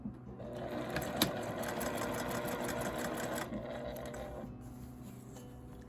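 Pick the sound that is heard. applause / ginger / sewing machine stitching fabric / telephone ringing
sewing machine stitching fabric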